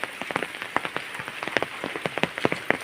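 Heavy rain pours down steadily, a dense, close patter of drops striking surfaces with frequent sharper splats, and no voices.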